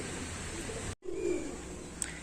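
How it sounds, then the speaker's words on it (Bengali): A pigeon coos once, close and soft, a low throaty murmur after a brief gap in steady background hiss, with a faint high chirp near the end. "নর পায়রা আছে এটা"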